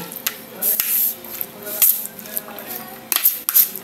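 Salad being mixed with mayonnaise in a home kitchen: a utensil stirs through the bowl with wet, squishy scrapes and a few sharp clinks against the dish, steady and close, with no talking.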